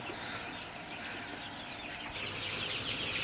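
A dense, steady chorus of peeping from a group of 22-day-old Sonali super hybrid chicks during Ranikhet vaccination, continuous and fairly close with no talk over it.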